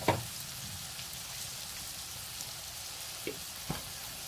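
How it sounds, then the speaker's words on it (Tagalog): Buttered garlic shrimp fry in a pan as Sprite is poured in, giving a steady, even sizzle with a few small pops and crackles scattered through it. "ilalagay na natin yung ating Sprite para mas maluto yung ating hipon"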